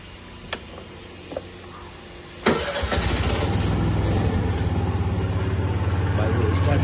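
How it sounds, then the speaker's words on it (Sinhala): A Suzuki Let's 4 48cc fuel-injected scooter fires up after a couple of faint clicks, then settles into a steady, close idle that drones on evenly while someone talks over it. "බයිසිකල් ස්ටාර්ට් කරලා කියලා දැනෙන්නේ නැහැ"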